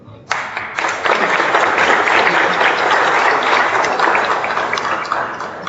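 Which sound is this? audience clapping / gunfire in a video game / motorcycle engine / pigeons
audience clapping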